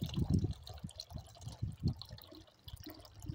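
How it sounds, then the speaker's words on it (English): Soft trickling and splashing of a small backyard water fountain for birds, steady and close, with low gurgles rising and falling throughout. "I still have the little water fountain running for the birds."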